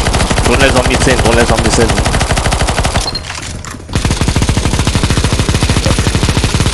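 Rapid automatic gunfire rattles continuously in a CS:GO zombie escape mod, loud and close, with a brief dip in the middle before the barrage resumes, and a voice speaks over the shooting.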